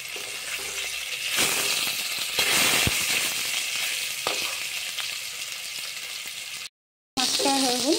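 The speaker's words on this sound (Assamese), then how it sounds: "তেলখিনি গৰম হোৱাত মই মাছকেইপিচ ভাজি ল'ম।" Pieces of fish frying in hot oil for an Assamese fish curry, giving a steady loud broadband sizzle with a few sharp spits and pops throughout, cut by a brief silent gap near the end.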